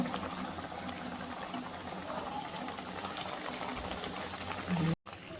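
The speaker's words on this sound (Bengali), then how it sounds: "সবগুলোকে দিয়ে লাল লাল করে ভেজে নিবে" Pitha frying in hot oil, a steady soft bubbling sizzle throughout, close and fairly quiet, with a brief cutout near the end.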